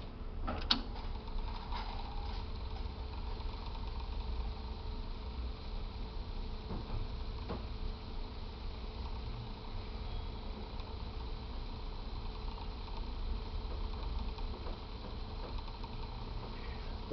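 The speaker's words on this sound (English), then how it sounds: "the GX77 is able to wind both directions at any load at any speed" An Akai GX-77 reel-to-reel tape deck winds tape with a low, steady mechanical whir and hum, broken by a few faint clicks, close and unbroken throughout.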